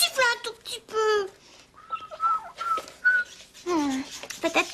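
Short, wavering whistled notes come between bursts of playful chattering and squeaky voices, the whistling thin and close, rising slightly in pitch across a few attempts.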